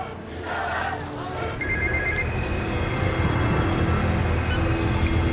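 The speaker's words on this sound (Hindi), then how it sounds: "Pick the phone, damn it." A telephone rings with a repeating electronic bell tone over a steady rumbling background noise, rising in loudness partway through, in a scene from the Indian television thriller series 24.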